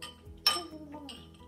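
A baby's spoon clinks once, sharply and close, against a bowl of vegetable soup, with soft voices murmuring around it.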